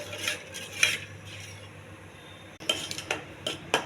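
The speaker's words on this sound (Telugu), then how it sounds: "కొంచెం దగ్గరికి వచ్చేటట్టు కలుపుతూ ఉండాలండి." A utensil scrapes and clinks against a pan while a gram flour and water chutney is stirred, giving short irregular metallic taps and scrapes over a quiet background, with no voices.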